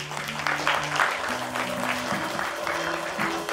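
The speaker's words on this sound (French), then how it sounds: "C'est Pascal, je pense qu'on peut l'applaudir aussi." An audience claps in a steady, dense burst of applause for about three and a half seconds, close and moderately loud, with a low musical hum running underneath and no speech.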